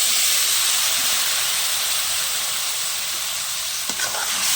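Chopped vegetables, added after onions, salt, chili powder and turmeric, fry in a pan over a clay stove, a loud, steady, close hiss of sizzling with one small clatter near the end, no talking.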